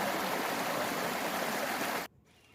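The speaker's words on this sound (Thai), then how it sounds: "น้ำไหลไหลไหลในลำธาร" A forest stream in Korea runs with a soft, steady rushing flow, not a waterfall, heard up close for about two seconds before the sound abruptly cuts to near-silence, with no voices present.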